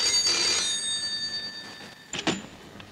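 A telephone rings in a home as relatives arrive for a family celebration, its steady electronic trill sounding close, then fading out before a short burst of movement noise.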